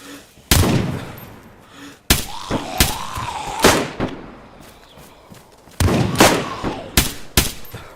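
Sharp gunshots from the DayZ video game, loud single cracks and short clusters spaced irregularly over several seconds, with a faint wavering tone between shots.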